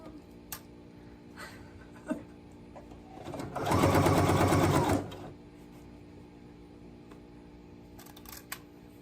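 A sewing machine stitches fabric for a handmade outfit in a short steady burst of several seconds, loud and close, with quiet room noise and a few faint clicks before and after.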